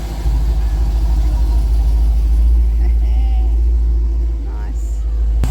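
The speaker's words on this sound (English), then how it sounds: "some cool cars rolling in." Cars rolling in at a caravan park, a steady low engine rumble close by with a voice talking over it.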